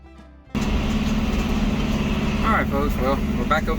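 A John Deere 6320 tractor pulling a field plow holds a steady, loud engine drone that starts abruptly, with a voice talking over it near the end.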